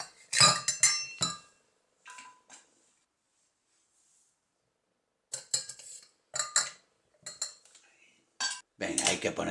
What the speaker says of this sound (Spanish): echamos unos hielos